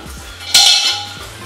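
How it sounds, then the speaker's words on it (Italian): A Petromax Dutch oven, a pot made entirely of cast iron, is handled, giving one sharp metallic clank that rings briefly before fading into quiet. "questa qui è la Dutch Oven, che cos'è? È sostanzialmente una pentola completamente in ghisa."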